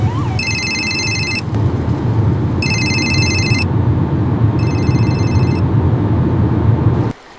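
A telephone rings with an incoming call, three repeated electronic trilling bursts evenly spaced over a steady low rumble of a moving ambulance.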